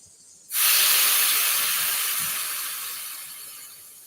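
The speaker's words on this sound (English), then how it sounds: "So what we're going to do is we're going to let the air out." A sudden loud hiss of air rushing out of a Schwinn Super Sport bicycle tire valve, steady and close, slowly fading over a few seconds.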